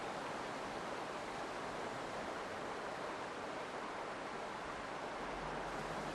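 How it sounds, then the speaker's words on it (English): A rough, wide river in the Serengeti rushes in a steady, broad roar of churning water, continuous and even, with no other sounds standing out. "The sound of the rough stream depresses their spirits"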